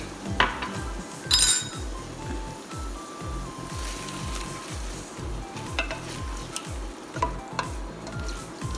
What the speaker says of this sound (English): Let's saute this for a little minute.